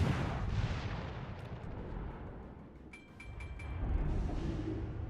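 Warship main-battery shells firing in the World of Warships: Legends naval video game, heavy booming artillery rumble with several sharp metallic reports clustered near the middle, under continuous low game background noise.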